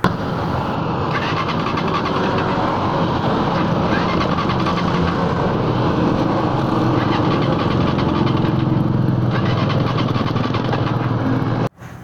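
A TMX Alpha 125 motorcycle's electric starter cranks the engine continuously and loudly for about twelve seconds without it catching, then cuts off abruptly.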